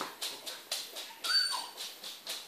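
A dog whimpers in a quick series of short, high whines and yips, about eight in a row at an uneven pace, fairly close and with no talking over it.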